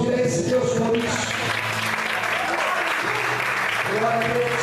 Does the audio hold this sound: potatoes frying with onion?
no